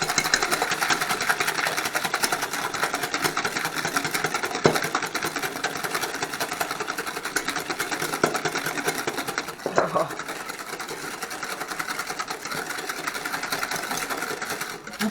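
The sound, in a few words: beating eggs by hand until frothy, for tiramisu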